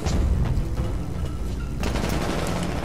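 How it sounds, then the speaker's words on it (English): A frag grenade blast and gunfire in the shooter game Brink, heard as a dense, rumbling wash of combat noise with scattered shots, shifting partway through into a broader roar. "Fucking grenade landed right in front of you."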